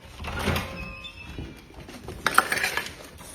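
A chicken coop door opening, a sliding scrape and a soft thunk followed by light rattling and clattering, close by with no talk.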